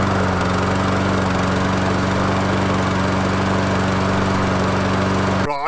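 A SABO commercial lawn mower running steadily at close range, a loud continuous engine drone with a strong low hum, cutting off abruptly at the end, no voices.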